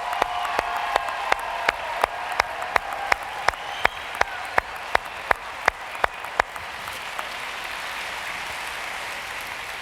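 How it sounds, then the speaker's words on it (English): A few distinct sharp claps ring out over a broad wash of crowd applause at the 2015 East Hall High School graduation, the louder individual claps fading after several seconds while steady clapping continues. "Give them a round of applause."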